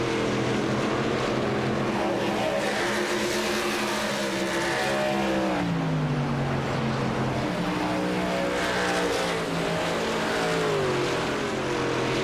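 Race cars lap a circuit during a VSpeed Contender Series event, with engines droning loudly and continuously, the pitch rising and falling as the cars accelerate and pass, without pause.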